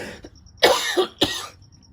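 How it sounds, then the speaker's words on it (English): Two harsh coughs in quick succession, close by, with quiet pauses around them. "I've been sick for a long time and I'm still coughing."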